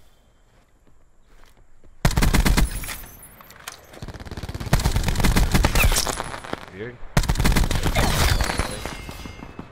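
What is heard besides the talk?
gunfire in the video game Black Ops 4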